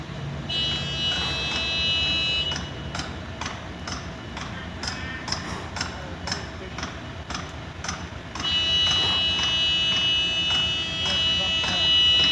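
A steady electronic buzzer or horn tone from a snorkel lift bucket sounds, cuts out for several seconds, then resumes, over a noisy background with people talking.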